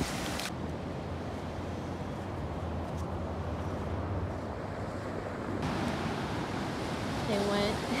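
Ocean waves at Laguna Beach make a steady broad wash of surf with wind rumble on the microphone, continuous throughout and slightly swelling toward the end, with faint voices at the close.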